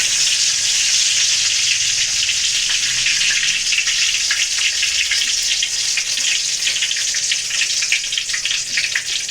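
Cinnamon sticks and curry leaves sizzle in hot oil for a tomato curry, a loud, steady crackling hiss close by that continues throughout.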